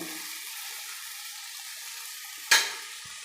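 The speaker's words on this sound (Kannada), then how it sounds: "ಈಗ ಮಸಾಲೆ ಹಾಗಲಕಾಯಿ ಎಲ್ಲ ಒಂದು ಸಾರಿ ಫ್ರೈ ಮಾಡಿ ಮಿಕ್ಸ್ ಮಾಡಾದಮೇಲೆ" Bitter gourd mixed with masala is stir-fried in a pan, giving a steady low sizzle throughout with one sharp clatter of the spoon against the pan near the end.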